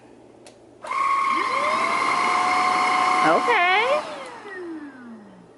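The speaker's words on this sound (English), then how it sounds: "And we have a vacuum cleaner. So let's see what it does." An Onson cordless vacuum cleaner whirs on with a high whine, runs steadily, shifts pitch briefly, then powers down and winds away; a voice says a word.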